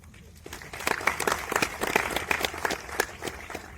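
An audience at the AIFF film festival breaks into applause, with clapping swelling quickly after a brief quiet start and staying dense and steady.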